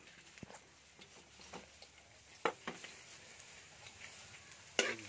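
Garlic sautéing in a pan, a quiet steady sizzle broken by scattered clicks and a few sharper clacks of a utensil against the pan.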